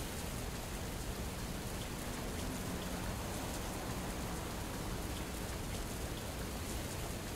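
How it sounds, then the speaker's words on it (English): Steady rain pattering on a truck windscreen inside a truck driving simulator game, a dense, even wash of drops that continues unbroken and fairly loud throughout, with no talk over it. "You can see the raindrops just coming down the window."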